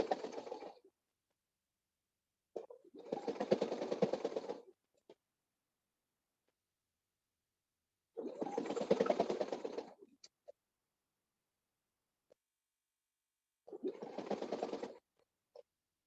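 A sewing machine stitches a drum bag in four separate bursts of rapid, steady whirring, close and clear, with silent pauses and a few faint clicks between runs.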